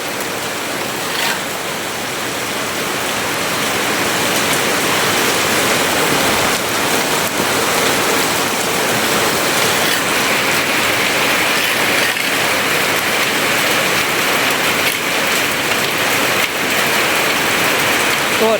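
Heavy rain pours down steadily and loudly throughout, a dense continuous hiss and patter of water on surfaces with no letup, close and enveloping.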